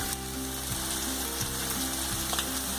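Tomato cooking in a pan for khara bhat, a steady close sizzle of frying with a few soft scraping stirs, with no talking.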